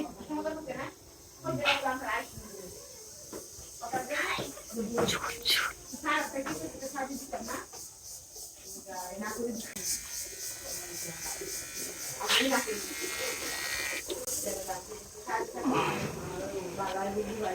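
An electric hair clipper buzzes steadily while cutting a sleeping brother's hair, heard under near-constant close talk and whispering from people in the room.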